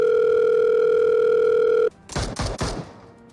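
A steady telephone dial tone hums for about two seconds before cutting off abruptly, followed by a few sharp clattering bursts, as if the call is placed from a phone during a PUBG-themed skit.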